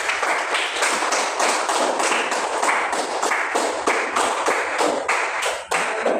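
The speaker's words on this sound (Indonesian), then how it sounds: "Tepuk tangan dulu kalian hari ini kerjasama." Participants in a classroom teaching session applaud together; sharp, close claps falling in a fairly regular rhythm, loud and continuous for about six seconds.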